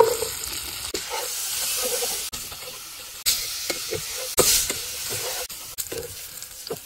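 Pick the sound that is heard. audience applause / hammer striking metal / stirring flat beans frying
stirring flat beans frying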